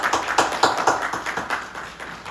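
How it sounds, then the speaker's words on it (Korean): A church congregation claps during a Sunday service, giving a short round of applause in a quick, fairly regular rhythm of hand claps that fills the room and fades slightly toward the end. "우리 박수를 한번"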